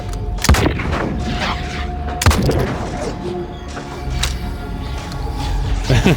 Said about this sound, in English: Oh, I have shotgun.